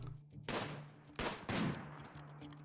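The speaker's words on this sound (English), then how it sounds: "Kepler's sniper rifle bullet annihilated Nox's nose." Rimworld combat with sniper rifle fire on rocky ground: three sharp shots crack out in quick succession, fairly quiet and each trailing a brief decay.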